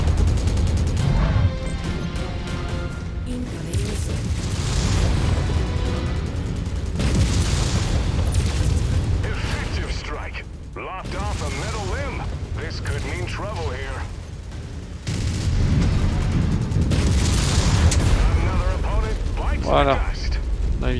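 Mech weapons fire and explosions in the MechWarrior 5: Mercenaries video game, heavy booming blasts and mechanical clanks rolling on continuously for about twenty seconds, loud and dense, under a voice talking in French.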